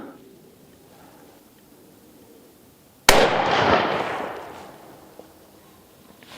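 A single loud 7mm PRC rifle shot from a CVA Cascade rifle, a sharp close crack followed by a long rolling echo that fades over a few seconds.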